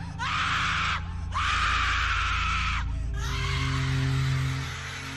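A horrible, drawn-out scream in a horror story, loud and close, rising in two long bursts with brief breaks between them and trailing into a lower wail over a low rumbling background.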